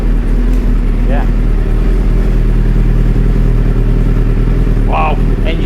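A Suzuki GSXR 1000 motorcycle engine idles steadily and loudly up close, a constant low rumble throughout with brief clatter, while people talk over it.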